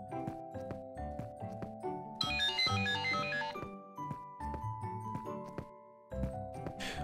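A phone ringtone for an incoming call plays a repeating melodic chime, moderately loud and close, with brief swells of brighter tinkling tones and no speech.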